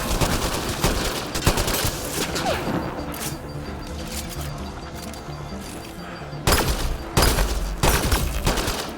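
Heavy gunfire in Mass Effect: Andromeda, with rapid automatic bursts and loud booming shots in close succession, easing briefly before intense volleys return near the end.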